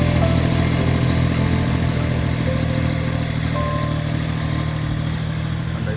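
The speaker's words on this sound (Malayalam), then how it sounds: "ഇതാണ് ഒരു കുട്ടി ട്രാക്ടർ." A small tractor engine runs steadily close by while pulling a roller, a continuous loud mechanical drone without breaks or clear revving.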